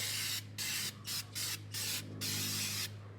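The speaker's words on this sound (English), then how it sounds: "you're just gonna spray it in, wipe it out." An aerosol can of throttle body cleaner sprays in a series of short hissing bursts, about six in quick succession, into the throttle body of a Cub Cadet XT1 mower engine, over a low steady hum.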